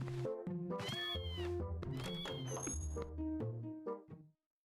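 Several cats in the Twilight Princess video game meow and yowl in overlapping, pitch-bending calls over a steady game music backdrop for about four seconds, then cut off abruptly.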